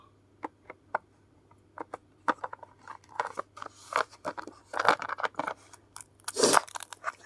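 Grain cookies with raisins are crunched and chewed nearby, giving sparse, crisp crunches that grow denser toward the end against a quiet background with no talking.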